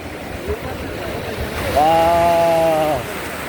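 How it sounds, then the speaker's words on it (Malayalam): Sea waves rush and wash in a steady surge where two seas meet at Dhanushkodi, Rameswaram, with a voice speaking briefly over the noise midway. "രണ്ട് കടൽ തിരമാലകൾ കൊണ്ട് ഏറ്റുമുട്ടുകയാണ്"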